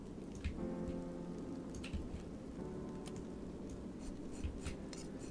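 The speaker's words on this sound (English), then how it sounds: "It's raining outside, by the way." Rain in the video game It Lurks Below falls as a quiet, steady patter with scattered individual drops and a few soft thumps, heard faintly with no talk.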